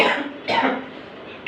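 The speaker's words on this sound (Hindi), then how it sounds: "बहुत परेशान हो गई खांसी।" A teacher coughs in a classroom, three quick harsh bursts close to the microphone with short gaps between them, heard alone.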